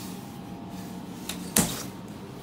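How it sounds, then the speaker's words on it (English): The two-speed door of a Schindler 330A hydraulic elevator at an H&M in Southdale Mall, Edina, Minnesota moves over a steady machine hum, ending in a soft knock and then a louder clunk as it shuts. "that 2-speed door"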